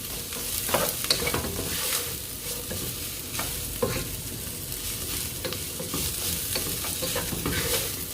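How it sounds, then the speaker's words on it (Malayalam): Grated coconut and ginger sizzling in a hot pan while being stirred, with repeated scraping strokes over a steady crackle, close and fairly loud. "തേങ്ങ ഇഞ്ചി നന്നായിട്ട് വറുത്തെടുക്കണം."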